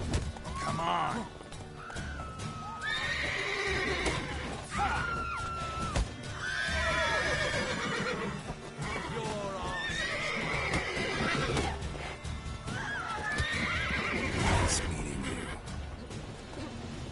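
Horses neigh and whinny repeatedly with hoof clatter and thumps mixed in, sounding busy and energetic at moderate distance, in the video game The Witcher 3.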